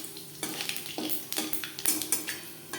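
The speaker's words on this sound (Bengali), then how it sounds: "মাছ ভেজে নেওয়া কড়াইতে আবারও তেল দিয়েছি। ফোড়নে দিয়ে দেবো একটা তেজপাতা" Bay leaf and panch phoron crackle in hot oil in a wok previously used for frying rui fish, close sizzling with repeated scraping and stirring clinks of a utensil against the pan, no talking.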